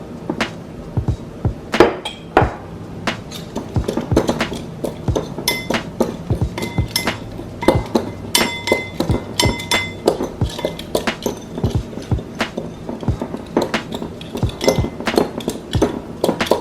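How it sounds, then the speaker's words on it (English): Garlic, salt and peppercorns stirred together in a bowl for a beef pot roast rub, heard as steady light clinks and taps of a utensil against the bowl, close and in uneven quick rhythm with no talking. "combine garlic, salt, and peppercorns"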